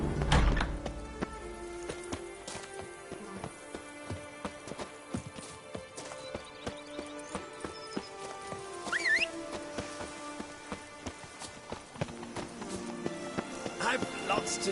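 Roach the horse gallops in The Witcher 3 video game, its rapid clip-clopping hooves drumming steadily for the whole stretch, with game sounds and a brief voice over the top.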